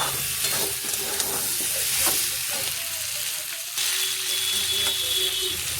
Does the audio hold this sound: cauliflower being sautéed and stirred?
yes